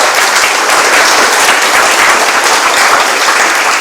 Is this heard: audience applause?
yes